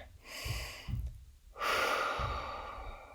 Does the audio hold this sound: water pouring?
no